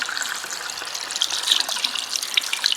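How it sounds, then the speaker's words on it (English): Hands rinsed under a running tap, a steady close hiss of flowing water with small splashes and dribbles as the hands move through the stream. "Then I am going to rinse."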